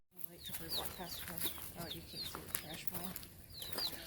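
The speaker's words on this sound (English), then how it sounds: "more chickens" Chickens cluck and chirp repeatedly nearby in a busy, overlapping chorus, with faint background murmuring underneath.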